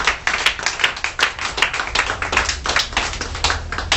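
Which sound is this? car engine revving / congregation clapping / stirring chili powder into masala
congregation clapping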